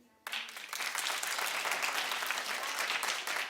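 A talk-show studio audience breaks into sudden, dense clapping that starts abruptly and holds steady for several seconds, close and full.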